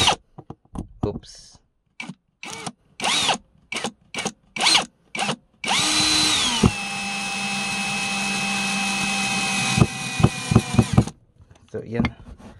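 A 16.8V brushless electric screwdriver drives a screw with a steady, high motor whine lasting about five seconds, after a series of short clicks and bursts. Brief clicks follow once it stops.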